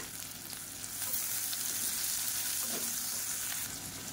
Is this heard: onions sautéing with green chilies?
yes